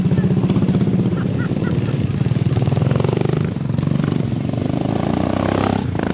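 A racing lawnmower engine at the British Grand Prix for lawnmowers holds a loud, continuous, buzzing drone close by, with the pitch shifting slightly as it revs through the whole stretch.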